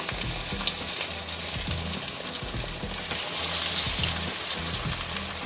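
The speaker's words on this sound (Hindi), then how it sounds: "ये तब तक आपने एक तरफ से फ्राई करनी है जब तक ये गोल्डन ब्राउन ना हो जाए" Fish pieces for Lahori fish fry frying in oil, a dense, steady crackling sizzle close by with a low hum underneath, no speech.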